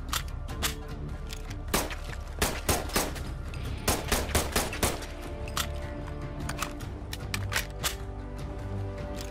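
FN502 Tactical pistol fired in Fallout 4, rapid loud sharp reports in quick irregular bursts over a steady background of game music or ambience.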